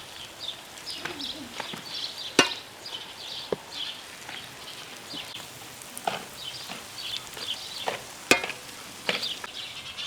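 Eggs for an omelette with herbs fry softly in a pan with a steady faint sizzle, broken by a few sharp scraping clicks of a utensil as the mixture is spread across the pan.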